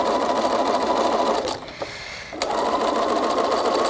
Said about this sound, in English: So we'll stitch down both sides and then we're ready to put the sashing over the top of the block.